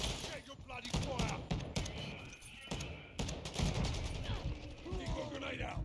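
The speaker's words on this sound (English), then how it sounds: "Switching mags." In Call of Duty: Modern Warfare II, an M13B rifle's magazine is swapped amid bursts of gunfire, with metallic clicks and ratcheting handling noises layered over the busy, crackling firefight.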